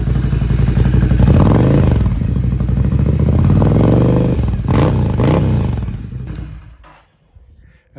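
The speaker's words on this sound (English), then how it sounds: "Now let's hear the new pipe." A Ducati Scrambler fitted with a Competition Werkes slip-on exhaust, run without the dB killer, revs loud and close, with rising and falling throttle blips for about six seconds before cutting to near silence.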